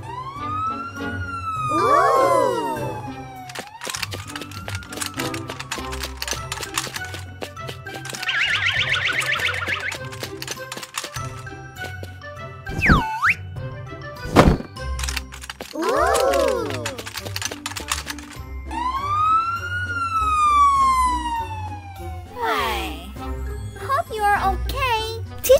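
A cartoon ambulance siren wails up and down again and again, mixed with jingly music and sound effects while a voice talks over it.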